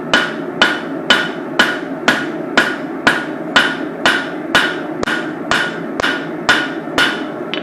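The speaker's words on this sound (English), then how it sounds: "I'm using my straight peen. It's going to make it longer and thinner." A straight peen hammer beats hot knife steel with sharp, ringing blows, about fifteen evenly spaced strikes at a brisk, steady rhythm, each clear and close.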